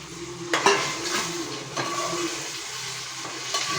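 Onions, green chilies and tomatoes fry in a pan for a homestyle chicken curry, a steady soft sizzle with a few sharp clanks of a utensil against the pan near the start and again later.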